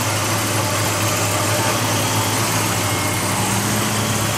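A matching-numbers 1970 Chevelle SS 396 idles steadily and loud throughout, a low rumbling engine drone with constant vibration and no breaks.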